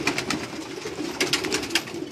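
Pigeons on a Karachi rooftop give soft cooing and rustling, a steady close murmur of birds with small flutters and faint background noise.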